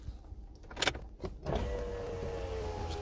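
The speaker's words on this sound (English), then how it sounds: "Just closing my window." Electric power window on a car motoring closed, a steady mechanical whir that starts after a few brief knocks and runs on evenly to the end, close by and moderately loud, with no speech.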